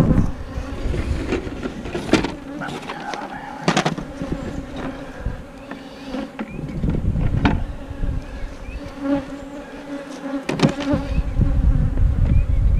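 Honeybees in two-frame mating nucs buzz in a dense, continuous close-up drone, with individual bees flying past the microphone in louder swells.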